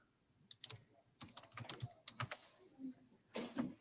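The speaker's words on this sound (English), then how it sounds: "And you can hear her typing." Someone typing on a computer keyboard during a Kentucky courtroom session held over Zoom, with faint, quick clusters of key taps in an irregular rhythm and a few brief pauses.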